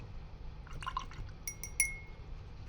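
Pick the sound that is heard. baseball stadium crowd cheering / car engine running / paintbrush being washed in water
paintbrush being washed in water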